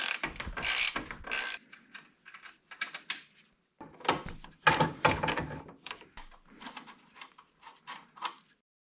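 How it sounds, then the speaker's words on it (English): Clicking and rattling bursts from a 1/2-inch ratchet turning a 13mm socket to remove nuts while taking the engine out of a 2009 Mini Cooper, coming in uneven spurts with short pauses between, close and fairly loud. "grab your 13mm socket with a 1/2" ratchet"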